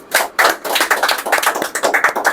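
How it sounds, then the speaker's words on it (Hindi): Students in a coaching class clap in a short, close burst of distinct hand claps with an uneven rhythm. The claps are loud and there is no talk. "इसके लिए एक तालियां हो जाना चाहिए"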